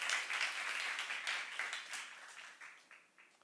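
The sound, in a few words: congregation applause in church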